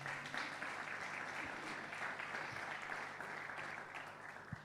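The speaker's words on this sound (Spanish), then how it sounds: "Le damos un aplauso también." Audience applause at a church general meeting, a dense, sustained clapping from a crowded room with a few sharper individual claps, moderately distant and steady.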